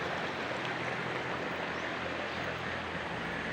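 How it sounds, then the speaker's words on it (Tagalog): Water flowing in a clean river in the summer dry season, a steady broadband rush that continues evenly throughout, close and moderately loud, with no voices. "pero maganda yung agos ng tubig dito"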